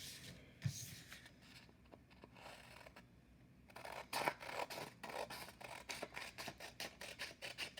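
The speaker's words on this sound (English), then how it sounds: "So you'll need to cut that off." Scissors snip through excess copy paper, a quiet run of short, crisp cuts that quickens into a steady rhythm of close snipping near the end.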